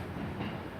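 A Virgin Trains class 221 Super Voyager at a platform in Chester station, a steady broadband rail rumble heard from a distance, even and unbroken with no talk.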